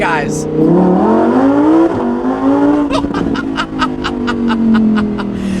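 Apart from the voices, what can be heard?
Lamborghini Huracan Evo Spyder engine revving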